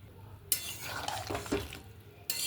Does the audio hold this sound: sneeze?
no